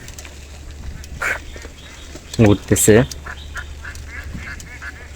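Ducks quacking on a wide river, heard as a few short bursts of nasal calls close by, with a voice speaking briefly and steady low background noise throughout.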